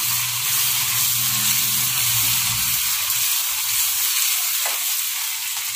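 Appe batter and coriander frying in oil in an appe pan, a loud, even hiss of sizzling that holds steady without pause, close up with no voices.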